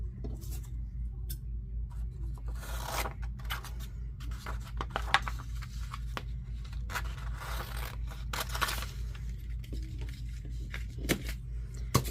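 Scissors snip and scrape through sheets of red Christmas gift wrap paper, a series of crisp cuts and rustles over a steady low hum, fairly close.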